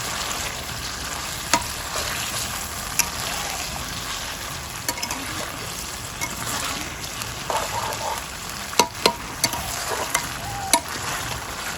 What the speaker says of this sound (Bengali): এটাকে ধরে ধরে কষাতে হবে